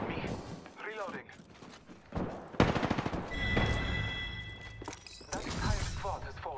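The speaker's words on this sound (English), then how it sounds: "Shots fired at me." Gunfire from the Apex Legends video game, including a Spitfire: bursts of rapid automatic shots and single cracks at varying distance, loud and dense in places, mixed with game voice lines and other battle sounds.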